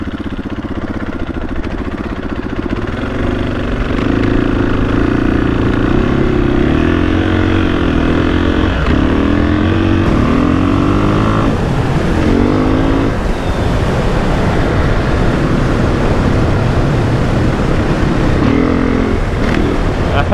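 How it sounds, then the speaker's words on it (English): KTM 500 motorcycle ridden fast on beach sand, its engine revving loudly and steadily with rising and falling pitch through gear changes, close up amid wind, no talk. "crazy how fast the KTM can go on this stuff."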